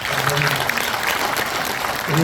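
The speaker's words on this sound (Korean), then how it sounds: "오신 모든 분들을 향해서 큰 박수 한번 드립니다." An audience in a performance hall at a Korean Buddhist cultural concert in Gangneung breaks into loud, close applause. A voice speaks over the clapping at the start and again at the end.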